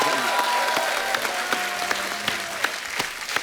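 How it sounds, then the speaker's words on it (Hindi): A studio audience at a comedy talk show claps loudly and steadily, with a dense patter of hands and a few sharper claps standing out from the rest. "जोरदार तालियां हो जाए एक बार अमित जी के लिए।"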